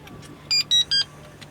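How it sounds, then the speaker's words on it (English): Three short, sharp electronic beeps in quick succession, loud and close, from a motor boat kill cord alarm over a low background hum. "if you leave that dangling from the helm, it starts beeping again"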